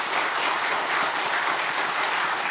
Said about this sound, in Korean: 격려와 축복의 박수 연말인데 한번 같이 하겠습니다.